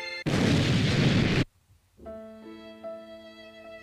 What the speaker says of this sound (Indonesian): Oh, ada bom. Meledak sudah.